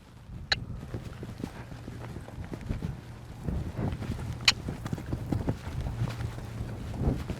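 A horse's hooves thud in an irregular rhythm as it spins through a turnaround in a show pen, soft and fairly distant under light wind noise.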